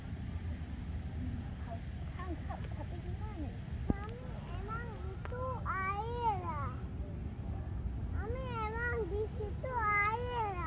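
A cat meows repeatedly outdoors in a village by a fishing pond, the clear rising-falling cries arriving in short bursts over a steady background rumble, with children's voices faintly mixed in.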